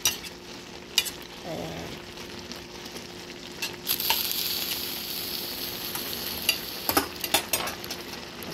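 Leftover pork, burger and onion are stir-fried together in a pan, giving a steady sizzle broken by scraping and clinking of a utensil against the metal. A brief voice cuts in once near the start.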